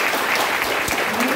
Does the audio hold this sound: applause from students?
yes